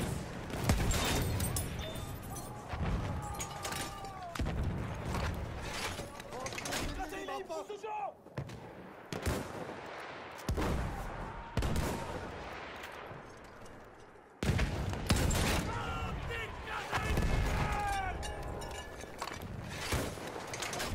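Artillery fire in Battlefield 1 multiplayer: repeated heavy booming blasts and gunfire bursts, loud and close, with a voice speaking over parts of the barrage.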